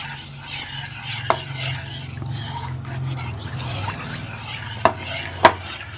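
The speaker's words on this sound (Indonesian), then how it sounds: "Sambil kita mengaduk biar rata" A utensil stirs rice flour and tapioca batter in a pot, producing a soft repeated scraping swish with a few sharp metallic clinks against the pot, close and clear, with no talking.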